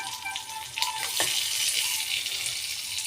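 Fish frying in a pan gives off a steady, close hiss and crackle of hot oil for a few seconds, with a brief clink partway through and no voices.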